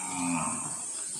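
A carabao (water buffalo) at a farm during plowing gives one short, low moo up close, fading within half a second into steady outdoor hiss.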